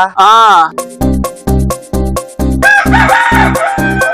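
A rooster gives one loud, rising-and-falling cock-a-doodle-doo crow, followed by a steady run of punchy rhythmic beats with a bright, busy layer on top.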